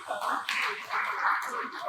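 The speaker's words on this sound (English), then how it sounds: "can you please clap your hands together?" Audience hands clapping at an outsourcing expo, a steady crowd applause filling the hall under a voice speaking over it.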